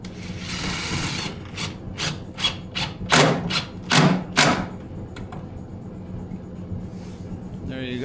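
Screws driven by hand into small strap-offcut washers on a wooden DIY chicken feeder, giving a series of short rasping, thudding bursts at close range over a steady hum of room noise.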